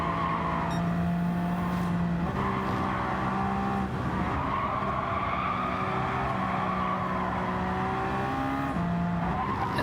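A Toyota GR010 Hybrid hypercar at Le Mans in Gran Turismo 7: a steady, loud engine drone that shifts pitch through gear changes, with tire squeal and skidding through the corners, continuous and close, with no voices.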